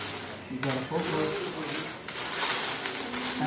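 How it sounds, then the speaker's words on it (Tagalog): Coins drop and clink onto a hard surface in a quick scatter of bright metallic chinks, followed by a few lighter jingles. A voice is faintly heard in the background. "Maraming barya ka tayo, Ramos."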